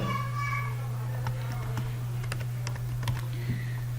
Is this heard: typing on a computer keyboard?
yes